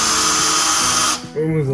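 A power screwdriver whirs steadily while backing screws out of a subwoofer amplifier, loud and close, then cuts off abruptly as a voice begins speaking.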